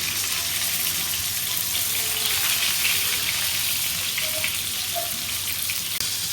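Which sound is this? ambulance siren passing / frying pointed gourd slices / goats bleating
frying pointed gourd slices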